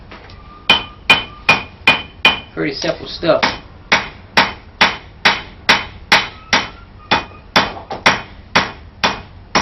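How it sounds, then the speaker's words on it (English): Steel knife blade being hammered out on the horn of an anvil, a steady series of sharp ringing hammer blows close up, with a brief cluster of quicker lighter taps partway through and a short spoken phrase. "I'm just putting it on the horn and hammering it out."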